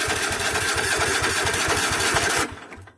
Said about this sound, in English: Alright, so I have struggled to start this engine at this point.